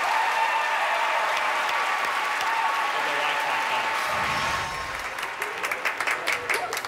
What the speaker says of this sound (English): a huge round of applause for Twyford